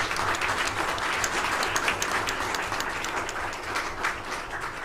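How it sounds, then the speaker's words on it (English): A crowd applauds steadily for several seconds at a city council meeting, dense clapping filling the space without a break. "Give yourself a round of applause."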